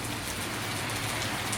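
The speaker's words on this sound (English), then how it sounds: "Look how it's raining where I'm at." Heavy rain pouring down outdoors, a dense, steady hiss of drops hitting surfaces, loud and continuous with no pauses and no voices.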